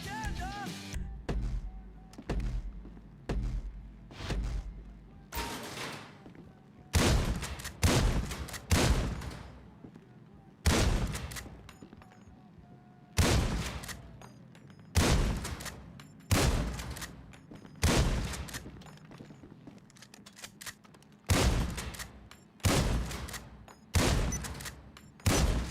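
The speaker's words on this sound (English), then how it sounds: "Shotgun." A shotgun in a video game fires over and over, about a dozen loud, heavy single blasts spaced a second or two apart, each with a short decaying tail, over quiet background.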